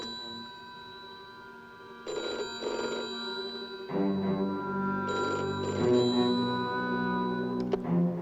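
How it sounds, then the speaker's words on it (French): An old-style telephone bell rings in bursts of two rings, loud and close, with a continuous background tone beneath it. "Téléphone, Elliot."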